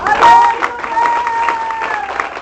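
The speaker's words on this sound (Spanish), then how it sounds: "Dele otro aplauso al Señor." Church congregation at a Spanish-language service applauding, a loud, dense burst of clapping with voices and a sustained tone running beneath it.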